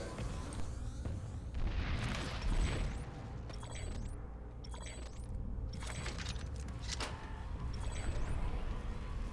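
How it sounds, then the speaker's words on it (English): In Planetside 2, a tank fires shells at a base silo, giving repeated booming blasts and impacts at irregular intervals, with mechanical clanks mixed in, moderately loud over a busy game backdrop. "This time he was attacking the silo directly with a tank"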